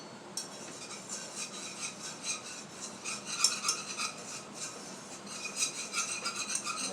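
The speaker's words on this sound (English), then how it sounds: "Stir that up." Flour being stirred into meatball gravy in a pan, a steady scraping and light clinking of a utensil against the pot that continues throughout, close and moderately quiet, with no talking.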